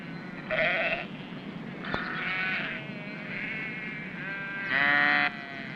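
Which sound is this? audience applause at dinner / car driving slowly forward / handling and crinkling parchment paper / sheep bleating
sheep bleating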